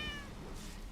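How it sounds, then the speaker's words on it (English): A short synthetic cat meow rings out as a WeakAura alert in World of Warcraft during a Resto Druid dungeon run, a single faint descending mew over a low background hum. "that meowing sound that you hear is my weak aura that shows that I have procced Heart of the Wild"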